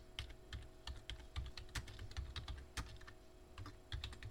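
Steady typing on a computer keyboard, a quick irregular run of close, soft key clicks with brief pauses between bursts, heard alone at low volume.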